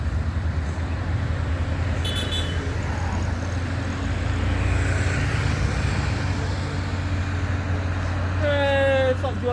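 A truck labours along a cracked, split hill road, its engine a steady low drone close by throughout, with a horn-like tonal toot near the end and passing traffic noise.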